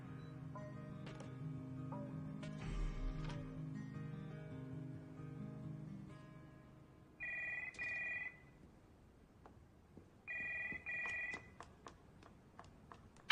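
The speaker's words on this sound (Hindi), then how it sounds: "किसी फोन उठाओ ना" A telephone rings in an office in two bursts of electronic trilling, each with a couple of quick repeated rings, after an opening stretch of low music and ambience with faint clicks.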